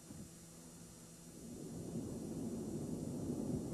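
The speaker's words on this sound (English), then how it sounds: "What an incredible storm." A thunderstorm capable of producing a tornado, heard during a storm chase: a broad, continuous rumble and wash of noise that swells and grows louder partway through, with no voices.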